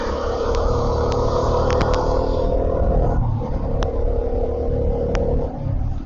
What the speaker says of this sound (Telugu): ఎంతో ట్రాఫిక్.